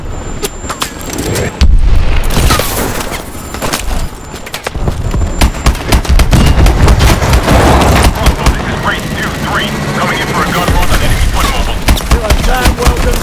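Loud booming blasts and crackling bursts in a chaotic, intense stretch of a pressure explosion in the Call of Duty: Advanced Warfare mission Fission, with a shouted voice briefly cutting through the explosive din.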